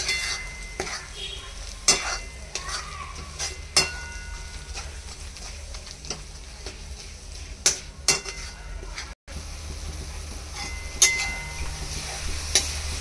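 A spoon scrapes around a pan as a jaggery filling for steamed modak is stirred and roasted, with steady rhythmic scraping and occasional sharp clinks over a soft sizzle.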